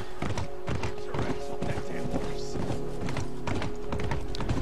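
Horse hooves clip-clopping in The Last of Us video game, a quick rhythmic run of hoof thuds in the foreground over steady game music and ambience.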